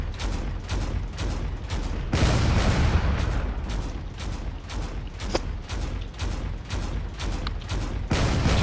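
Rapid, steady barrage of video game cannon fire in a drone battle, loud booming shots repeating at an even quick rhythm throughout, with no talk.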